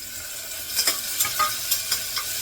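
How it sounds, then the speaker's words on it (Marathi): Chopped onion with chilli sautéing in a pan, a soft sizzle under a series of distinct, regularly spaced stirring scrapes of a spoon. "कांदा थोडा परतून घेते थोडासा"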